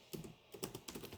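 Quick, close keystrokes on a computer keyboard come in a rapid run of soft clicks while a word is typed into a logic programming editor.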